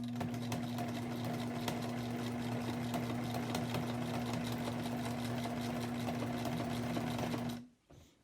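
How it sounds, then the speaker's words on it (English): A sewing machine stitches a quilt's applique border in one steady, continuous run with an even mechanical hum and rapid needle clatter, then stops abruptly near the end. "And then I sew it over the place I started a little bit."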